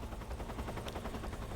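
Anti-aircraft gun in Metal Gear Solid 3: Snake Eater firing at a helicopter, a dense run of rapid thudding shots over a continuous low rumble, loud and sustained throughout.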